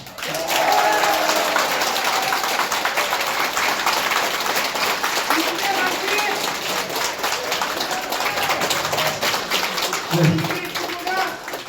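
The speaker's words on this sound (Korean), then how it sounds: "우리 이기재 전 위원님께 다시 한번 큰 박수 부탁드립니다." Rally crowd at a campaign committee launch event in Seoul's Yangcheon-gap district claps steadily and loudly through the whole stretch, with scattered cheers and children's voices mixed in.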